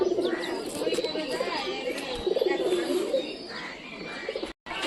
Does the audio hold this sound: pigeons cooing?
yes